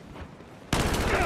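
Gunfire erupts in a video game match after near silence, a sudden loud burst of rapid shots continuing to the end.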